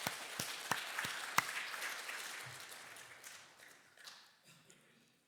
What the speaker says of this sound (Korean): 우리 하나님께 영광의 박수를 돌리겠습니다.